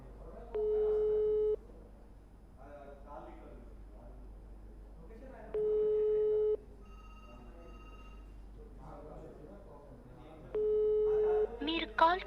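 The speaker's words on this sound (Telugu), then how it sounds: "రింగ్ అవుతుంది ఫోన్." A phone call ringback tone, three evenly spaced steady beeps each lasting about a second, with people talking quietly between them.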